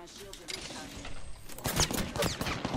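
Gunfire in the Apex Legends video game, rapid bursts of shots that grow denser and louder in the second half, mixed with people talking over the action.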